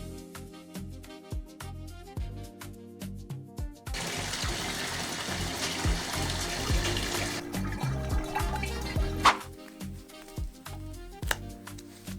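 Running, splashing water from a baby's bath while his hair is washed with unscented Frida Baby Cradle Cap shampoo, a steady rush lasting a few seconds between stretches of background music.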